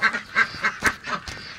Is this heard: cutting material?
no